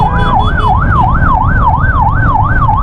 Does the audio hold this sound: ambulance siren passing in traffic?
yes